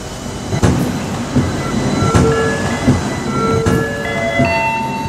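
An express train pulls into a station platform, with a steady rumble of wheels, rhythmic clacks over rail joints and rising metallic squeals of brakes and wheels, loud and close with no speech.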